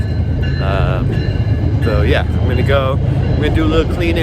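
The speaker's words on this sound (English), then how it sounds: "Sorry about the train noise" A steady low rumble of a passing train fills the background while a person talks loudly close by.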